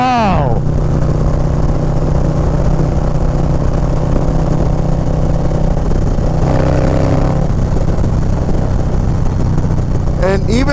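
A Harley-Davidson Low Rider ST with a 131 engine drones loudly and steadily at speed under wind rush, pitch rising briefly as the throttle opens, with a rider's voice talking over it.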